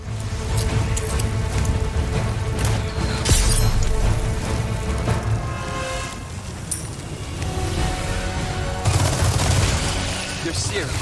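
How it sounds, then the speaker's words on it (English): Machine gun fire in Resident Evil 4 Remake rattles in dense bursts amid booms and game noise, loud and close, with a voice speaking over parts of it. "You can use the machine gun to quickly take him out."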